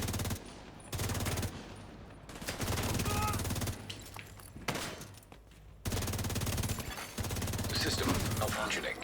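Rapid automatic gunfire bursts from a video game, loud and repeated in several long volleys separated by short pauses, with someone talking at times over the shooting.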